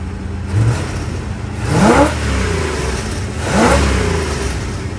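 A 1975 Chevrolet Monza with a 350 V8 idles close by, then revs twice at half throttle, each blip rising sharply and falling back to a steady rumbling idle.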